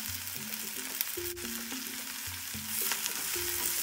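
Coriander, dried red chillies, cumin and pepper roast in a pan for Tamil fish curry (meen kulambu), a low crackle under a constant tonal hum and steady stirring scrapes, no talk.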